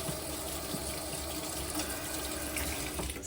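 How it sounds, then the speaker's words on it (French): Lukewarm tap water runs steadily while an art paintbrush is rinsed under it, a continuous close splashing rush with faint shifts as the brush moves through the stream. "Vous le rincez à l'eau tiède, pas l'eau chaude, mais l'eau tiède"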